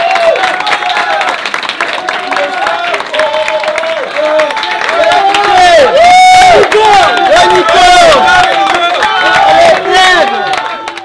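A large crowd claps and cheers loudly at an end-of-season gymnastics gathering in Lyon, with shouts rising over sustained applause throughout.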